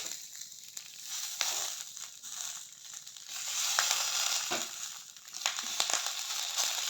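Cabbage paturi fries in a wok with a quiet, steady sizzle that swells and fades, broken by occasional soft crackles and light clicks.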